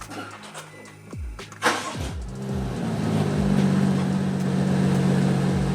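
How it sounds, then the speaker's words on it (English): A BMW F-series car engine cranks briefly, fires up, and settles into a steady, rumbling idle with the exhaust closed, heard up close with no talking. "I'm gonna turn the car on."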